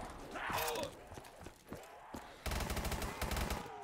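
Explosive gunfire in Black Ops 3 Zombies, hardcore mode with explosives-only guns: a series of sharp separate blasts, then a dense, loud run of rapid firing in the final stretch, with no voice over it.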